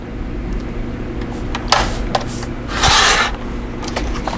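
Paper trimmed to 8 by 10 inches for a December Daily journal's foundation pages makes a few short, close scraping strokes, then one longer rasping slide near the end, over a low steady hum.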